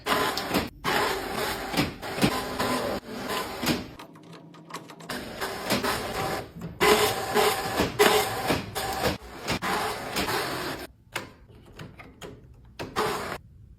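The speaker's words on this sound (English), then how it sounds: "Today we find out just how much the Epson workforce can print." An Epson WorkForce inkjet printer running a print job, a continuous whirring and shuffling mechanical drone with carriage passes and brief pauses, heard up close for over a dozen seconds without speech.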